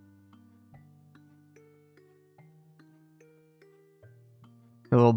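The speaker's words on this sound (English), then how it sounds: "The little bells, I'm gonna let that play out." Small bells chime a light melody over soft sustained tones in a K-pop song, ringing note by note, ending in a sudden louder burst.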